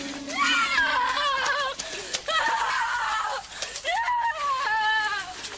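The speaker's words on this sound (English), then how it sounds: "The killer appears and starts chasing Trish, who screams and cries as she runs away" A woman screams and sobs in a horror film as a killer chases her, with repeated loud, high, wavering cries and whimpers in breathless bursts, close and frantic, with brief gaps between them.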